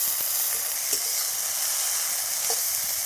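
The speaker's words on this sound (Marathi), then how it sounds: "भाजी चांगली परतून घेऊ आता" Steady, close sizzling of vegetables frying in hot oil, with a few soft stirring knocks now and then, no voices.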